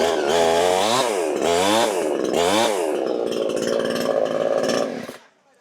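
A self-start chainsaw tree-cutting machine revving in several rising and falling bursts, then holding a steady loud whine before cutting off abruptly, close by.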